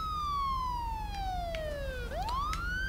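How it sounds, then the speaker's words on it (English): A police-style siren in the State of Decay video game wails in a long descending sweep, then jumps back up and rises again, loud and steady with no talking. "Run with the siren on."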